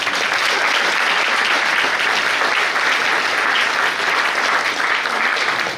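Audience applause at a talk on Vosges forests, steady, dense clapping from a sizeable crowd sustained at even loudness throughout, with no voices.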